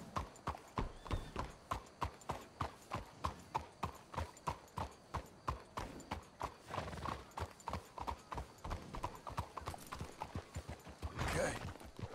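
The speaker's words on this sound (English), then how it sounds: "Let's hitch your horses up ahead." Horse hooves clip-clop at a steady, rhythmic trot in the Red Dead Redemption 2 video game, close and continuous, with a short burst of louder noise near the end.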